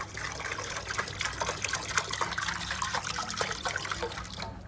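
Half a litre of milk gushes into a cauldron of water being readied for pork cracklings, a loud, close, continuous splashing pour that runs for several seconds without any voices.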